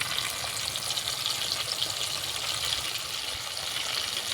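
Tomato fried in oil with cumin paste, ginger paste and red chilli powder in a pan, giving a dense, continuous crackling sizzle held at an even level throughout with no talk.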